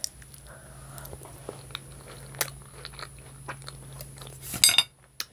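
Someone bites into crunchy honeycrisp apple pie topped with Cinnamon Toast Crunch, making soft close chewing sounds. A few sharper crunches cluster near the end.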